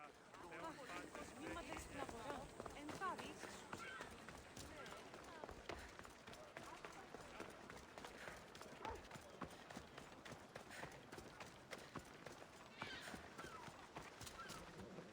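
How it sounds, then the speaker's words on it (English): Horse hooves galloping in Assassin's Creed Odyssey, a steady rapid clip-clop running continuously at moderate loudness with a voice talking over it. "That's a nice horse, Socrates."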